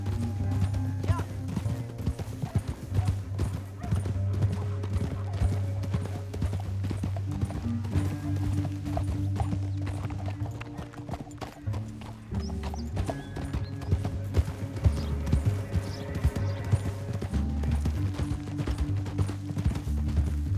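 Horse hooves gallop continuously in Red Dead Redemption 2, a dense rapid drumming that stays loud and close throughout, layered with game music and an occasional whinny.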